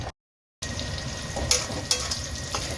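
Two spoons of ghee hitting a hot pan already holding dried red chillies, whole spices and a little oil, giving a steady close sizzle and frying hiss with small pops after a brief silence.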